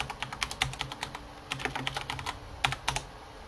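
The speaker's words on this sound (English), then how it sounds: "So that's what I have to type in." Fingers tapping out a buff name on a computer keyboard, quick close clicky keystrokes in uneven bursts with brief pauses, no voices.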